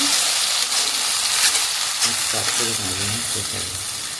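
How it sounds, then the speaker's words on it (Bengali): Cashew-onion paste with ginger, garlic and green chilli sizzles loudly as it fries in oil in a wok for a chicken curry, a continuous hiss with stirring, and a voice speaks briefly over it. "কাজু পেঁয়াজের যে পেস্টটা বানিয়েছিলাম সেটা আবার কড়াইতে আমরা অ্যাড করে দেব।"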